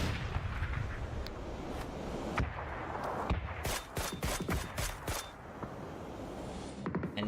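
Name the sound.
mortar fire in a video game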